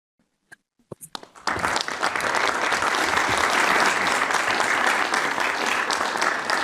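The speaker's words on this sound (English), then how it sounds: "I hope you could hear the round of applause you got there here in Brussels." A few scattered claps come first, then a full round of applause bursts from a conference audience in Brussels and holds loud and dense until the end.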